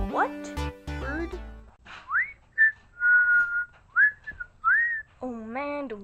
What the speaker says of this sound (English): don't I love whistling?